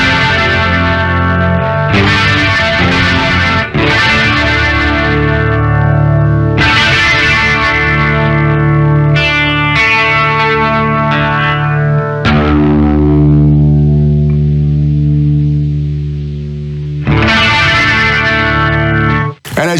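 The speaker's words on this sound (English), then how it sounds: "as you can hear, that one's more like a chorusy type thing" An electric guitar runs through an Eventide H90 vibracore patch into a vintage delay, giving several ringing, shimmering chorus-like chords with echo tails, loud and up close, played alone without speech.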